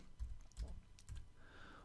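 Arrow keys on a computer keyboard are tapped during photo-editing work, giving three soft, close, separate clicks in a quiet room, with no talk.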